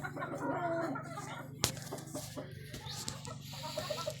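An expensive grape gamecock rooster clucks in short, broken bursts at close range, with one sharp snap partway through and a faint hum in the background.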